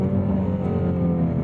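A 2018 Ford Mustang Shelby GT350R with exhaust valves opened in sport mode gives a steady, deep droning engine note, heard from inside the car without speech.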